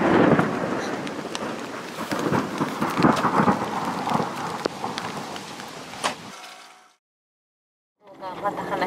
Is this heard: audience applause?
no